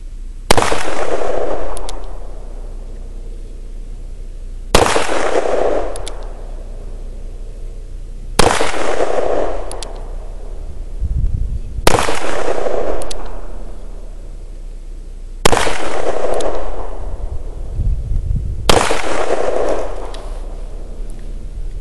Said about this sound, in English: So let's see how this gun does at 10 yards with this factory ammunition.